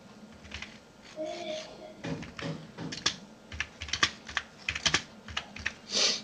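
Keys clatter on a computer keyboard in irregular, close, crisp clicks and quick runs of typing, with no talk over them.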